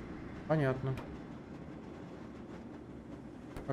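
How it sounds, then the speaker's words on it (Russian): A tram car rolls along rails in the game Black Mesa, a steady low rumbling drone running throughout at moderate level, with someone speaking briefly over it near the start. "Я управляю вагонеткой"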